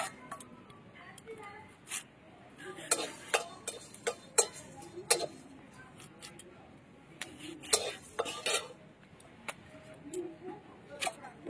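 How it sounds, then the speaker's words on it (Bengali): A knife cuts a carrot into long strips on a board, producing a run of sharp, irregular chopping clicks at close range, with no voices heard. "গাজরটা লম্বা লম্বা করে কাটবে"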